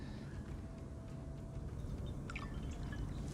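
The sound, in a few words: water poured into a glass of raki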